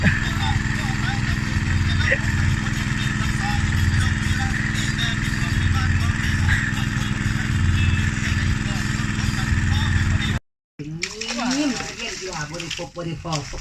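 A small engine drains a pond in rice fields, droning loudly and steadily without letup, then cuts out abruptly near the end, followed by brief scattered handling noises.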